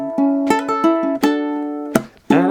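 Ukulele strums and plucked notes from a song ring out bright and close, a few separate chord hits with short decays, no voice.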